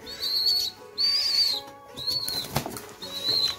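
Young hand-raised birds, likely pigeons, flap their wings in a few brisk fluttering bursts close by, with short pauses between them and no talk.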